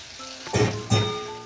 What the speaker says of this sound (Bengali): পেঁয়াজটা আমার এখন ভাজা ভাজা হোক।